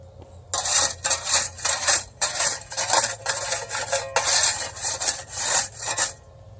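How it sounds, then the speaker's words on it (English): A tool scrapes the edges of a blacktop asphalt patch, producing loud, gritty rasping strokes in a steady back-and-forth rhythm, about a dozen close scrapes with short gaps between them. "So you can scrape the edges, shove that back on there"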